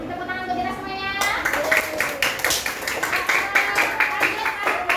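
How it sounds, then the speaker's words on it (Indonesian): Children in an elementary classroom clap in rhythmic, patterned bursts after a group exercise, with a voice speaking at the start and the claps ringing close and bright. "Beri tepuk tangan untuk kita semuanya."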